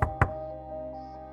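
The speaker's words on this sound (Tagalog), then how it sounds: "At biglang kumatok." Two quick, hollow knocks on a door, close and distinct, then a low lingering hum in a quiet room, used as a horror story sound effect.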